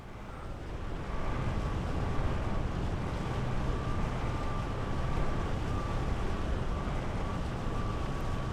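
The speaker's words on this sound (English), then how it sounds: "That's upwind sailing." A sailboat beating upwind in the AC Sailing game: a continuous, loud rush of wind and water with a faint steady tone running underneath, unchanging for several seconds and heard alone.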